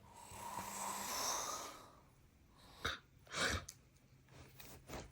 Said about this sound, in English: Time to stop that snoring.